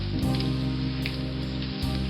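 Heavy rain pours down steadily, a dense continuous hiss with a low rumbling undertone, loud and close with no talking over it.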